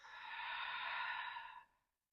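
A single long, breathy exhale through the mouth during a calm yoga practice, steady for about a second and a half and then fading out to silence.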